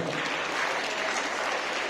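An audience of students at a pen distribution event in Siricilla claps together, a dense, steady burst of applause lasting the whole moment.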